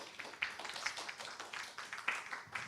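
Faint, scattered clapping from a small audience at a Blockchain4Good summit in Cannes, a few soft irregular claps continuing briefly.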